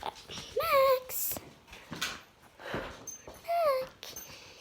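A dog gives two high, wavering whimpers a few seconds apart, near and clear, among light shuffling noises.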